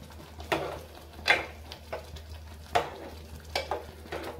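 Tamarind pulp is gently stirred into a simmering Bombay duck curry in a pot, with soft periodic scraping strokes over a faint low bubbling, no voices.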